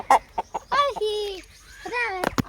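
Local desi chickens in a Sundarbans village cluck and squawk in short bursts close by, with a few sharp knocks and rustles mixed in.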